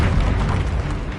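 Bombarda spell explosion in Hogwarts Legacy, a loud, dense booming blast with heavy low rumble that fills the whole moment without a break.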